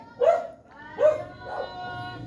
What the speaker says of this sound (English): dogs don't like having their evening peace disturbed. And can hear Toffee kick it off